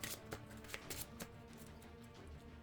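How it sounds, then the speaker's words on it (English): Playing cards for a Marvel-style card game shuffled close up in rapid riffling bursts with sharp clicks, no voices. "I'm only going to use that ally for a resource."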